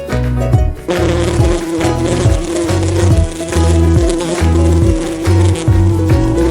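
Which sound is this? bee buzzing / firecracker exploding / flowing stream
bee buzzing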